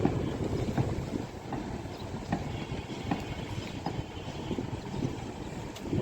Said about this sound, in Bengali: বুড়িগঙ্গার জাহাজ চলে দেখছেন, ভোর ভোর ভোর ভোর ভোর ভোর করে।